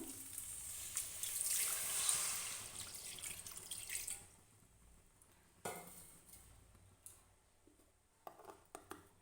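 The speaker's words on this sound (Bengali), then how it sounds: "আর দিয়ে দেবো অল্প পরিমাণে জল।" A small amount of water pours into a wok for about four seconds with a gentle splashing rush, followed by quieter scattered clinks and stirring taps.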